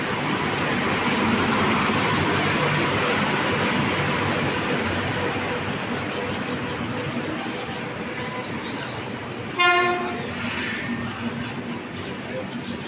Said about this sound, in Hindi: तो अब हमारी गतिमान एक्सप्रेस प्लेटफॉर्म नंबर 3 ग्वालियर पे 4:05 पे आ चुकी है।